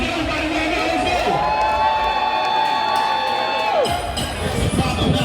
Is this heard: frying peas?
no